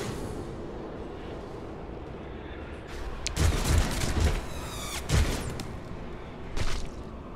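A grenade goes off in Warhammer 40K: Rogue Trader, giving several heavy booming blasts with rumbling low end and crackling debris, loud and close over steady game ambience, with no talking.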